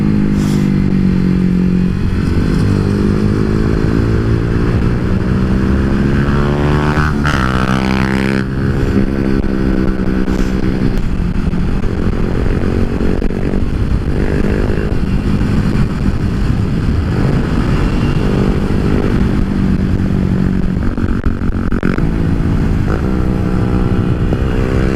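A motorcycle on a Sunday morning group ride accelerates hard, its engine loud and close with rising revs and a steady roar throughout.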